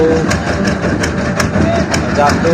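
Boat engine on the Meghna river running steadily after starting, a loud continuous low rumble with periodic ticking pulses, close by, with voices underneath.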